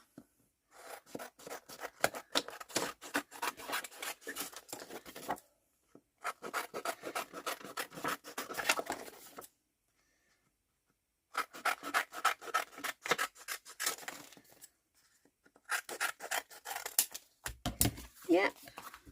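Scissors snip around a handmade paper tag in a collage pocket journal, giving bursts of crisp cutting and rubbing a few seconds long, broken by short pauses, close and fairly quiet.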